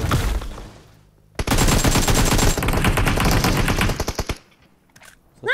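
Rapid bursts of 5.56 automatic gunfire in PUBG Mobile, dense and loud, rattling for about three seconds before stopping abruptly, with quieter game ambience before and after.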